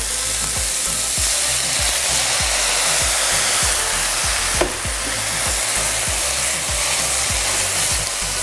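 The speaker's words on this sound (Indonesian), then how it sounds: "Kita tumis semuanya." Carrots stir-fry in a pan with a splash of water for a healthy capcay, a loud, close, continuous hiss and sizzle with a steady rhythmic scraping of the utensil and one sharper clack midway.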